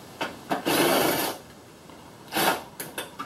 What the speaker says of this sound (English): You get your impact, pull all these bolts.